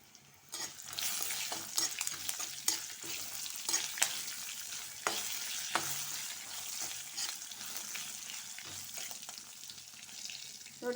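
Pepper and chopped ginger sizzle in a pan for amla rice while a spoon stirs them, the soft, steady frying hiss broken by a series of sharp scraping strokes close by.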